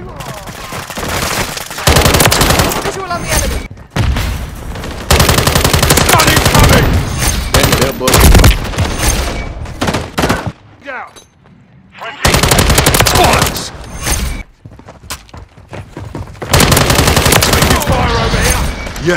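Sustained machine gun fire in Call of Duty: Modern Warfare, loud bursts of rapid automatic shots with short gaps between volleys.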